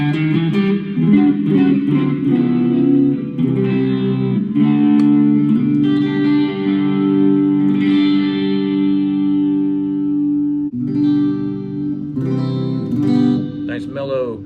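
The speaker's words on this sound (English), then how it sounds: "Nice mellow acoustic guitar sound there." Mellow acoustic guitar tone from a Flamma FX10 headphone amp with heavy reverb, sustained strummed chords ringing steadily and close throughout.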